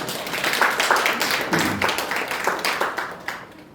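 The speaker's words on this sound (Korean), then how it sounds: "한 박수 한번 해주시죠" A church audience claps for visiting missionaries from Jordan, a loose, fairly close burst of individual hand claps that swells and then thins out unevenly.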